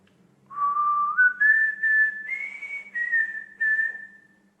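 A person whistles a simple rising melody, clear and close, with several sustained notes separated by short breaths, alone without talk.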